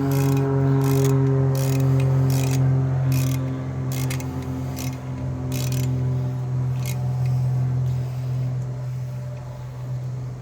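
Ratchet tightening a bolt on a GMC Acadia CV axle during a passenger-side axle replacement, with repeated mechanical clicking bursts over a steady droning hum, close and fairly loud.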